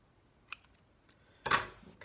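Scissors snip through a letter cut from a cereal box, giving a few soft, close clicks and then one louder, rustling cut of cardboard.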